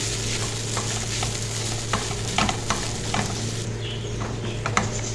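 Grated potatoes are mixed in a pan for a potato snack, with rhythmic spoon scrapes and soft clicks over a steady sizzle, close and fairly loud.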